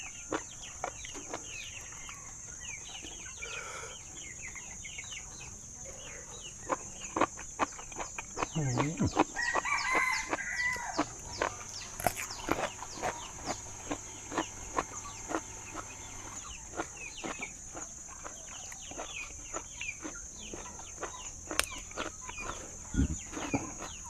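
Chickens cluck beside a farm chicken coop in a stream of short, scattered calls and clicks, with a few louder outbursts. Low voices are heard now and then.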